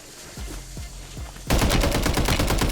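Gunfire in the video game Warzone starts as a few separate single shots, then breaks into a loud, rapid automatic burst.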